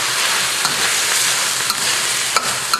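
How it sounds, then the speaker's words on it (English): Eel sizzles and fries steadily in a wok with Thai hot curry, a loud continuous hiss broken by a few sharp crackles and stirring clicks. "Okay, so the eel's been cooking."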